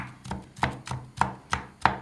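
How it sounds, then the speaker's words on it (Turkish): A knife chops walnuts steadily on a board for Turkish walnut çiğ köfte, about six crisp, evenly spaced strikes, close and clear with no talking. "Cevizlerini nasıl doğruyorsun? İnce ince iyice kıyılıyor."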